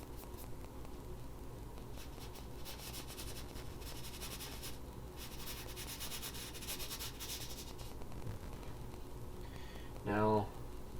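A paintbrush scrubs paint onto a surface in a soft, continuous rubbing rasp with faint irregular strokes, followed by a brief voiced sound near the end.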